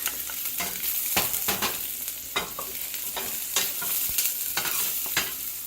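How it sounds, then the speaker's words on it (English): Chopped garlic sweating in olive oil, a steady close sizzle punctuated by regular stirring scrapes, with no voices. "I'm going to start out by sweating out some chopped garlic"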